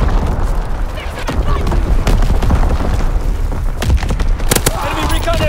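Artillery battery fire in the World War II shooter Call of Duty WWII: repeated heavy booms and blasts crowd a dense, loud battlefield din, with a game voice talking over them.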